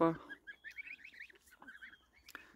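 Goslings honk and chatter in a busy run of short, high calls that fill the clip, close and moderately loud, with a sharp peep near the end.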